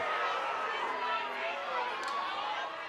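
A Missouri crowd at a college softball game murmurs and groans in disapproval, a broad, fairly loud rumble of many voices lasting the whole moment.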